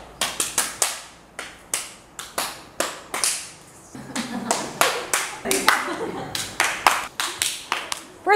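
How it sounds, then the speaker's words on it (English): A group claps hands together in a steady repeated rhythm, sharp close claps in short bursts with brief pauses between them. "We'll follow the same rhythm as the clapping"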